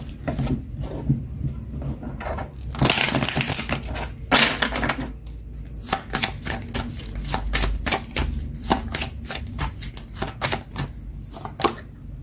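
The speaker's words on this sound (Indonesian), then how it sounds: "sekarang aku akan menarik pesannya dari kartu Oracle Chakra Wisdom ya" Oracle Chakra Wisdom cards are shuffled by hand, a close rapid clatter of crisp taps and flicks with a few longer riffling bursts, continuing steadily with no talking.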